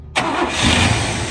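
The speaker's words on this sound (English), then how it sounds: "we are going to fire it up now, drive it, and then hop in." A 1963 Buick LeSabre engine catching and firing up, an abrupt loud start that settles straight into a steady rumbling run, close by.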